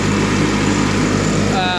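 A John Deere 316 lawn tractor engine drones steadily and close while mowing a field, a low continuous hum with no break in level.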